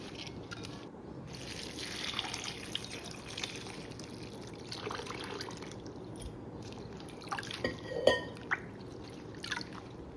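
Water splashes and drips as something is rinsed, with soft trickling and a few sharper drops near the end.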